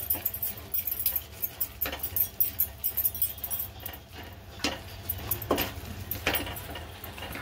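Semolina and salt being stirred by hand in a bowl for medu vada batter, giving scattered soft scraping and clinking strokes at close range with no talk.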